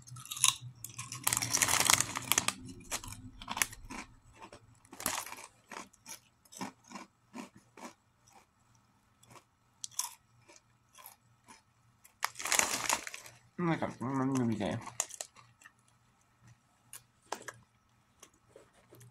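Crunchy jalapeño-flavoured Miss Vickie's kettle chips being bitten and chewed close up, a series of loud, sharp crunches in irregular bursts with quieter gaps between, and no talking.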